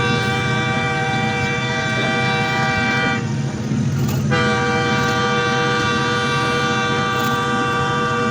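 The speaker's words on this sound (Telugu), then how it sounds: "ప్రస్తుతానికి నేను ఒక ట్రైన్లో ఒక మంచి ప్లేస్కి వెళ్తున్నాను" Passenger train running on a journey through Kerala, a steady loud rumble of wheels and carriage with sustained horn tones sounding throughout, a brief shift in the noise midway, no talking.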